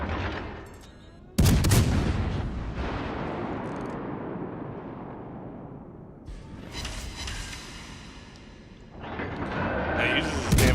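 Heavy naval guns of the cruiser La Galissonière in World of Warships: a loud booming salvo erupts and rumbles away, followed by further thudding volleys, with someone talking over the battle noise.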